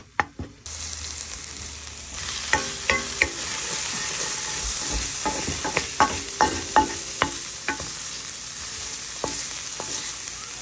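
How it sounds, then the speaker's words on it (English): White onions sauté in a hot pan for beef stroganoff, sizzling steadily and loudly while a utensil stirs and scrapes, giving repeated sharp clacks against the pan. "I'm just sauteing some onions, some white onions"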